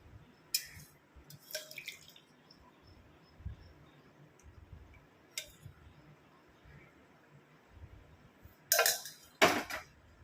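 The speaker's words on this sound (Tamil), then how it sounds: "இப்போ நான் ஒரு பவுலில் இதை வந்து ஃபில்ட்ரு பண்ணி எடுத்துக்கிறேன்." Homemade liquid face essence is filtered into a bowl, making faint, sparse drips and a few sharper splashes and clinks in a quiet room.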